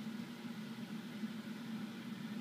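A Boeing 737 engine 2 spooling up during start in a flight simulator, a steady low droning hum holding at an even level throughout, with no voices.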